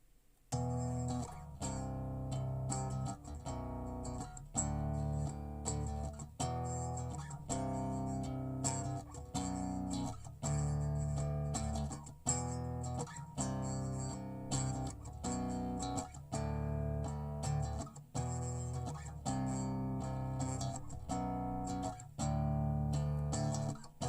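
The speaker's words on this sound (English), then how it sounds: "So the final mixed bass sounds like this." A mixed bass guitar line, recorded DI with saturation, plays in a steady repeating groove, deep, warm and punchy, with tight rhythmic note attacks and no voices.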